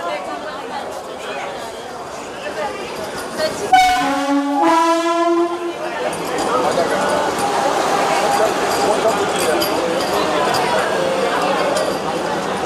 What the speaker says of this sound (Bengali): 26404 বন্দে ভারত এক্সপ্রেস ঢুকছে শ্রীনগর রেলওয়ে স্টেশনে।